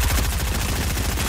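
Rapid automatic gunfire in the video game Fortnite, loud and dense with steady fast repeating shots through the whole stretch.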